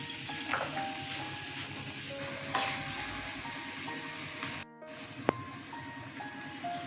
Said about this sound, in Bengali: এখানে দেখুন এই ভাজার থেকে না তেল বেরোতে আরম্ভ করেছে।